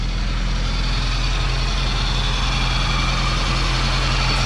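A 1983 Mitsubishi Colt with a 1.4L engine runs steadily, a loud, close, continuous low rumble of a car engine with no talk over it.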